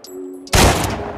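A single loud burst of video-game gunfire erupts abruptly after a brief quiet stretch with a faint electronic tone, then rings out and decays.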